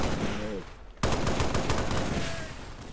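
Rapid bursts of automatic gunfire in a Halo-style battle inside the VR game Blade & Sorcery, opening with a sharp loud report and rattling on densely and close for the rest of the clip.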